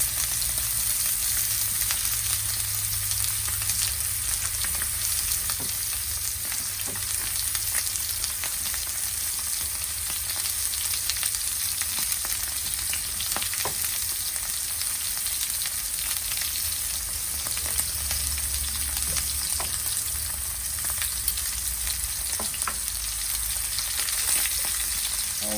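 Steak fries in a pan with plenty of butter and rosemary, a steady close sizzle crackling without pause, no voices over it.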